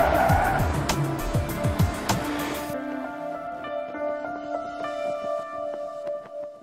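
A Mercedes-Benz van on a test track skid pan squeals its tyres through a hard manoeuvre with the ESP system, loud and rough at first, then easing into a quieter engine drone with a lingering tonal whine.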